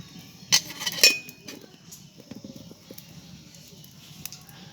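A metal stand set down inside a wok on the stove, a couple of sharp metallic clinks followed by lighter scraping taps, close and fairly clear.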